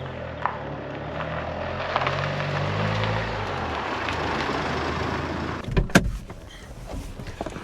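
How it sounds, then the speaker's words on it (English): A Ford Mondeo on a test drive, heard from inside the cabin as a steady road and engine rumble, with a short burst of clunks and knocks near the end and no talk. "So I'm gonna take it for a test drive and see how we get on."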